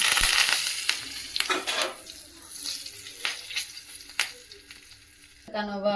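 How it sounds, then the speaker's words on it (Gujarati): Curry leaves and cumin crackle and sizzle in hot oil as a tempering for Gujarati pakoda, a loud, spitting fry with sharp pops that dies down into a softer hiss near the end. "વઘાર માર્યો આપણે ગુજરાતીમાં વઘાર કહીએ"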